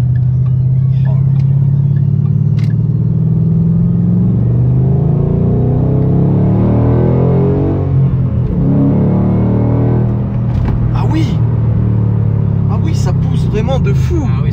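A 2013 Ford Mustang GT Premium V8 engine revs and roars loudly for a sustained stretch, its rumbling pitch rising and falling, with people talking over it.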